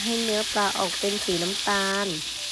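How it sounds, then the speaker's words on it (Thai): Tilapia pieces deep-fry in plenty of hot oil, a continuous bright sizzle running under a voice that speaks throughout. "พอน้ำมันเริ่มเดือดใส่ปลาลงไปค่ะ ค่อยๆ ลงไปทีละชิ้นนะคะ"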